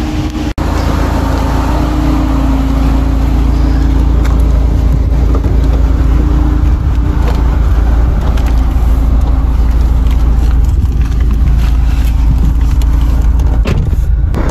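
A car climbs the Col Vert mountain pass, its engine giving a loud, steady low drone with road rumble throughout and no talking.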